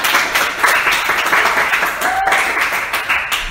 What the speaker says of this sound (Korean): 자, 우리 요한 간사님 위해서 우리 박수 한번.